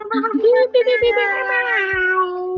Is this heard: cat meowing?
yes